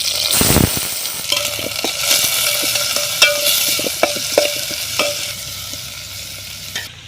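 Onion, curry leaves and green chillies frying in hot oil, with a steady sizzle broken by regular scraping stirs of a spatula against the pan, close and clear with no talk.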